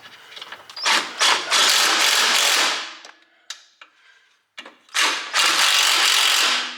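A ratchet tightens the bolts on a welded differential going back into an NA Miata, in two loud close bursts of rapid clicking separated by a pause with a few isolated clicks.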